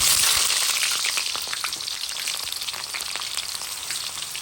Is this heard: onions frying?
yes